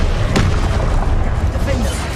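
A deep, rumbling Confringo blast explosion from Hogwarts Legacy booms heavily and stays loud across the whole moment, with a sharp crack near the start and a voice mixed in.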